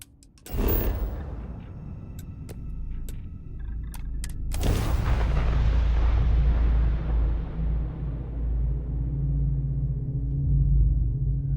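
Retro thrusters fire on a spaceship landing in the video game Starfield. A sharp ignition burst gives way to a loud, sustained roaring rumble, then a second surge deepens into a heavy, continuous low roar to the end.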